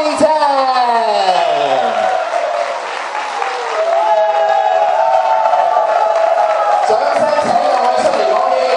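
A crowd at a golf tournament event breaks into loud, sustained applause and cheering, with whoops rising over the clapping; a voice speaks over it near the start.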